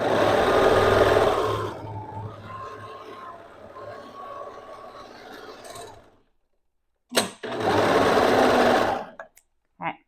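A sewing machine stitches dress seams in loud runs, with a slower stretch in between, a brief silent pause, then another fast burst ending in a couple of clicks.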